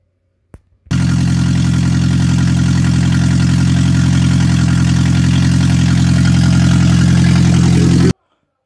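A loud, steady car engine drone with a deep, rumbling exhaust tone from a car with its catalytic converter stolen, running continuously for several seconds after a brief click, with no talking.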